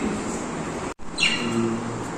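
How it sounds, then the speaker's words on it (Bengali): A single short, high chirp from a lovebird rises briefly over a quiet room, close by, after a moment of near silence. "কি সুন্দর বসে আছে দুইটা লাভ বার্ড"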